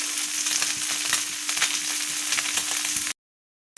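Oil sizzles and spits steadily in a pan as food fries for tomato saaru, a dense continuous crackle with small pops, then it cuts off abruptly near the end.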